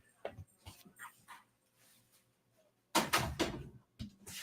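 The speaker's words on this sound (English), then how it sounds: "I'm going to get up and close the door" A dog moves about nearby in a quiet home office, with faint thumps and brief whimpery sounds, then a door swings and shuts with a louder, fuller clatter near the end.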